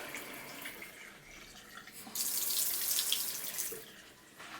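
A bathroom sink faucet runs quietly at first, then opens to a louder, steady rushing stream of hot and cold water before easing off near the end.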